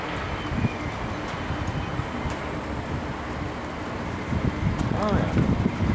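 Strong gusting wind roars steadily during a bow-echo thunderstorm on the northern edge of Vienna in late May 2011. The rushing noise is continuous, with a slight swell near the end.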